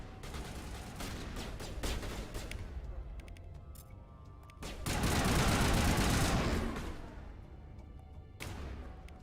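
Sustained gunfire against hulking Krogan enemies in Mass Effect Legendary Edition on PS5, a continuous rattle of shots that swells into a louder, heavier barrage midway before easing back.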